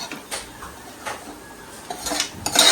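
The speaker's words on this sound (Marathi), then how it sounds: "तर परत नीटपैकी मिक्स करून घेऊया" Spices, ginger-garlic paste, turmeric, coriander-cumin powder and roasted masala being stirred into chicken in a pot, with a few separate scraping and clinking hits of a spoon against the metal pot, growing busier toward the end.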